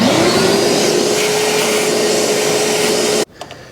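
Shop vacuum sucking debris out of a seized Honda ST70 barn-find engine, a loud steady whine held for about three seconds, then cut off abruptly into near silence.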